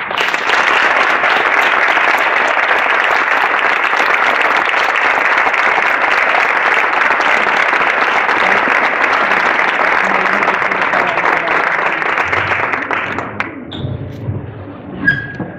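A loud, dense ovation from a seated audience welcomes a flamenco singer at the Real Círculo de la Amistad in Córdoba. The sustained applause runs for about thirteen seconds, then breaks off into a few scattered thumps and stray sounds.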